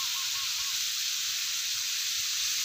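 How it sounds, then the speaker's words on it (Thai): Pork stir-frying in a hot pan gives off a constant, loud bright sizzle, a steady hiss without a break. "เนี่ยแล้วก็มาผัดนะคะ"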